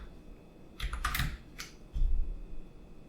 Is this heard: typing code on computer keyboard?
yes